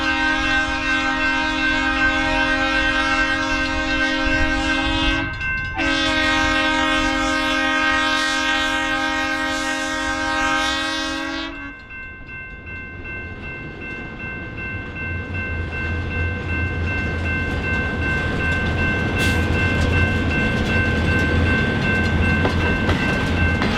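An iron ore train horn blasts loudly in two long chords, then the heavy loaded train rumbles and rolls past steadily with clanking wheels, entering Eagle Mills, Michigan.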